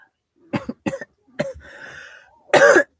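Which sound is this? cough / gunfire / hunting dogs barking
cough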